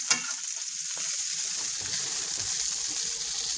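Onions and kielbasa sausage fry in a pan with a steady, bright sizzle, opening with a sharp knock from a utensil and then a few soft stirring bumps, close and without talk.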